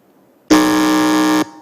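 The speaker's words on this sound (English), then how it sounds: "Let us hear the sound of the buzzer from Christ Model Academy." A quiz contest buzzer gives a single loud, steady electronic tone of about one second against near silence.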